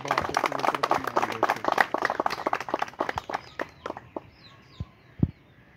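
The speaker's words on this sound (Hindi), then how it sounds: "तालियां भी मारो यार।" Clapping rises at an outdoor prize ceremony for a pigeon-flying tournament, first a quick patter of many hands, then thinning to scattered single claps that fade to near silence.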